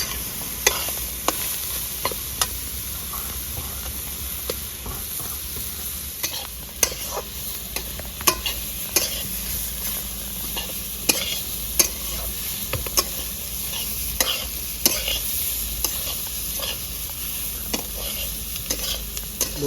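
Grated cauliflower fries in a hot pan, a continuous crackling sizzle broken by regular sharp scrapes and taps as a spoon stirs it, close and without voices.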